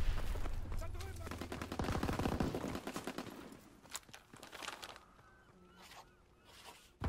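Bursts of automatic gunfire rattle through a Call of Duty battle, rapid shots crowded together in the first seconds and then thinning into scattered reports, mixed with game radio chatter and other effects.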